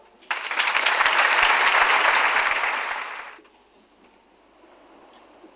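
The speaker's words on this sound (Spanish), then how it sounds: "Un aplauso." A crowd at a traditional music gathering in Conceyu Llena breaks into sudden, lively clapping. It holds strongly for about three seconds, then dies away into quiet room tone.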